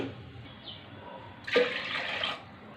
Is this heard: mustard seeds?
no